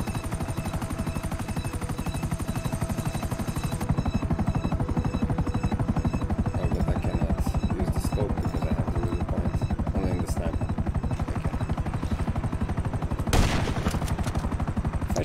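A helicopter's rotors thud in a fast, loud, continuous beat in GTA 5 Online, with bursts of gunfire breaking in and a sharp burst near the end.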